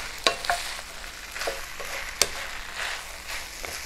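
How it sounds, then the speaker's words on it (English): Spoon stirring ingredients in a frying pan for shepherd's pie, a soft continuous sizzle under occasional sharp taps and scrapes of the utensil against the pan, close up with no voices. "Let's just go ahead and stir that in."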